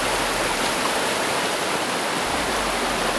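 A river flows steadily on Balarang Bato mountain, a continuous broadband rush of water close by with no voices.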